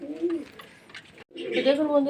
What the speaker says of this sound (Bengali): পায়রাগুলো সব খাওয়া হয়ে ছটফট করছে খাওয়ার জন্য